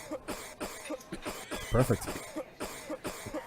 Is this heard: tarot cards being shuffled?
no